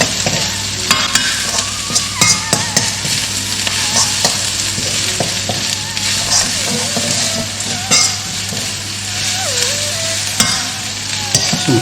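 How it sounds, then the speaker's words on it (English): Red and green peppers and dried chilli stir-fried in a hot pan for Mongolian beef, with a steady, close sizzle and repeated scraping stirs running throughout, no talking. "And put in our dried chilli. Nice and steady, give it a stir around."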